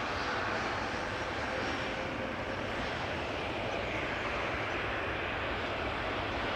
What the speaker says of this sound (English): In the foreground, passing from the right, is KLM flight 984, Embraer 190,